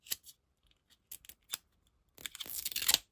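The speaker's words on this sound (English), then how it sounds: "Let's pop the sticker off." Sticker peeled off a roll of washi tape, a few short, close, crisp tearing and crinkling bursts separated by quiet gaps, ending in a longer rustling peel.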